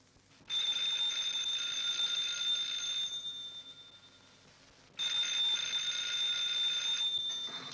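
An old telephone bell rings in a 1940s film scene, a steady bright trill lasting about three seconds, a pause, then a second ring, fairly loud and alone without talk.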